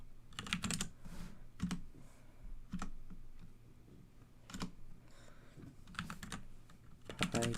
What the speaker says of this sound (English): I'm gonna type it this time.